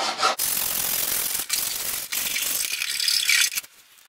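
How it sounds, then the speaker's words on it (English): A hand file scrapes along the sharp metal edge of a Yamaha Enticer snowmobile seat pan, making loud, close rasping strokes in several bursts separated by brief pauses. "So I'm just going along with the file and trying to break this sharp edge"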